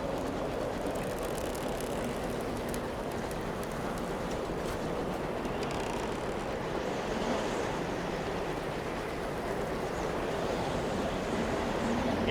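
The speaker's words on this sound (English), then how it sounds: "It is, in a word, windy." Howling wind in the game Sunless Skies, a steady broadband rush with slow swells, continuous and moderately loud with no voices.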